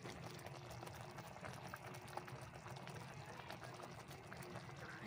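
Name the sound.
stew boiling in a pot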